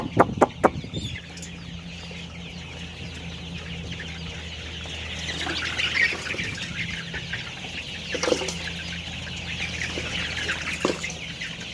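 Pet birds, young chicks, flap their wings in short bursts, with soft clucking and fluttering over a low steady background hum. Several flaps come close together at the start and more follow later.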